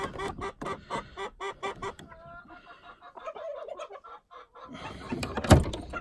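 Chickens clucking steadily in a coop as they are let out after nine days shut in, a busy overlapping flock close by with a louder squawk near the end.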